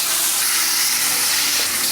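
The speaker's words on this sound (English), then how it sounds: "Y'all hear that sizzle?" Loud, steady sizzling and crackling of steak frying with butter in a hot skillet, continuous and close up with no talking.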